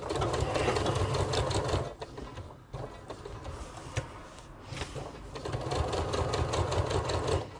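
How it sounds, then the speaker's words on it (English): A sewing machine runs a long basting stitch, length 4.5, around the fabric edge of a shoulder pad for a crossbody bag strap, whirring steadily and close with a brief pause midway. "So I'm going to sew all the way around on the outer edge of the fabric"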